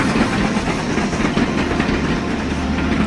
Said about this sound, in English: All set to the familiar clicking of wheels.